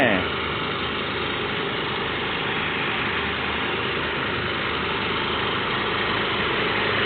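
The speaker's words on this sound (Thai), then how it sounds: "ตอนนี้รถสตาร์ทติดแล้วครับ" A truck engine idles steadily and loudly after a jump start from a dead battery, a continuous low rumble with vibration that stays even throughout.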